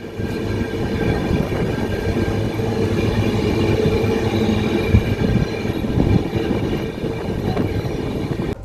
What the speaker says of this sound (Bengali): ফরেস্টের মধ্য দিয়ে আমাদের ট্রেন ফাঁকাই যাচ্ছে